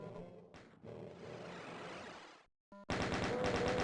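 Rapid automatic gunfire from a chaingunner enemy in the video game Doom, a dense sustained burst that cuts out briefly, then resumes loud and close amid game sound effects.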